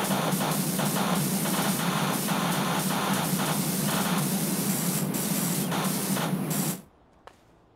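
Steady, loud hissing spray of a pressure washer in PowerWash Simulator runs continuously for about seven seconds, then cuts off abruptly, leaving near silence with one small click.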